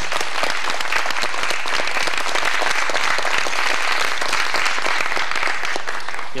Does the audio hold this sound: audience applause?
yes